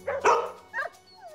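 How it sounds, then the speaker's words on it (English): Puppies at play give a few short, close yips and barks with a faint whimpering tone, quick and scattered over a quiet background. "We've just come around the corner, and we see some puppies playing."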